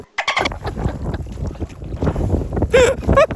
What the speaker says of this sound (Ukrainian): Вітер такий, що просто капець